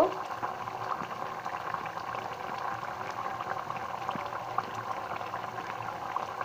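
Oil-free chicken curry boils in a pot with a steady, continuous bubbling and simmering at moderate loudness throughout.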